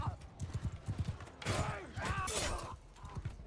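Horses clip-clopping through a medieval battle in Crusader Kings 3, rhythmic hoofbeats at the start and end framing a louder burst of clashing, shattering combat noise in the middle.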